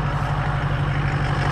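A 2003 Ford F350 dually pickup idles close by with a slight vibration, giving a steady, low, even engine rumble for the whole short stretch.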